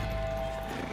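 A horse in the Red Dead Redemption 2 video game gives a brief whinny over soft hoof clip-clops, quiet and close in a short burst.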